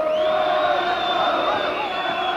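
A boxing arena crowd roars and cheers steadily as cornermen wave them on during the Villasana vs Hodkinson rematch, a dense, loud wall of voices held for a couple of seconds.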